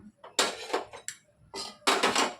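Sweet panakam with cardamom powder being stirred in a pot, a few short bursts of scraping and clinking from the spoon against the metal, close and fairly loud, separated by brief pauses.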